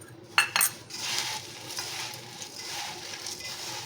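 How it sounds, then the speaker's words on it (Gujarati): Crisp poha chevdo is gently tossed by hand with dry spice powder, giving a soft, continuous dry rustle after a couple of sharp clinks at the start. "હળવા હાથે આ રીતે મિક્સ કરી દઈશું."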